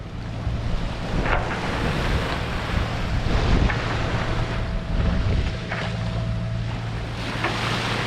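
Ocean swell about 2.5 m high rolls and surges around a sailing boat at sea between Madeira and Gran Canaria, a steady broad wash of waves with wind buffeting the microphone throughout, no talking.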